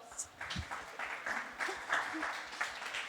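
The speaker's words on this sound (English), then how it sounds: "Please give them a round of applause." Audience applause for a literary panel on murder mysteries, a thin, quiet patter of clapping from a modest crowd, uneven and somewhat distant, lasting about three seconds.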